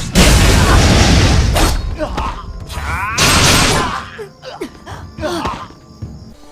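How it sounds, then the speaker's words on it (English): A large hand cannon fires in the RaiderZ online action game, producing several heavy, loud booms with crashing bursts of noise, separated by shorter clanks and impacts of combat. "pick up the big hand cannon thing and just run right in there and just go boom"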